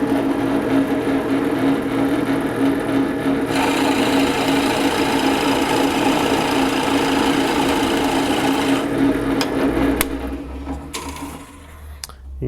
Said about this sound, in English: I've got our 1-inch COLT Forstner bit chucked up here in the drill press